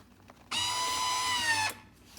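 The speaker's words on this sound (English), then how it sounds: "now that means that it is sealing, and then when it's done, it will release it" A vacuum sealer runs its sealing cycle on a bag of meat, giving a loud, steady mechanical buzz that starts abruptly, holds for just over a second, then cuts off, with no talking.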